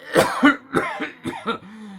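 A voice acts out a series of wheezy, spluttering coughs and snuffles in quick succession, imitating the Lorax, close and fairly loud, ending in a drawn-out hum.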